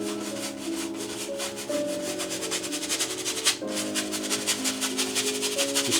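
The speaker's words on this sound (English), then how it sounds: "I'm just making crisscross strokes across the canvas here." A paintbrush scrubs oil paint across canvas in quick crisscross strokes, giving a dense, rhythmic rasping close up. A steady tonal hum runs underneath throughout.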